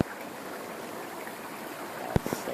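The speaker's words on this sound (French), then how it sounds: "Belle petite rivière." A small river flows over stones along a rural hiking trail near Livingston, a soft steady babble with a couple of brief knocks near the end and no talking.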